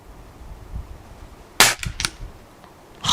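A GAMO Big Cat air rifle fires one sharp, loud shot outdoors in the snow at a 30-metre target, followed by a couple of quieter clicks and a short burst of noise near the end, with no talking.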